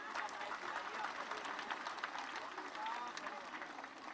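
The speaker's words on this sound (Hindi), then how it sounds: "जोरदार तालियों के साथ अभिनंदन करें।" Fairly faint, continuous crowd applause at a public gathering in Purnea, India, with scattered voices mixed into the clapping.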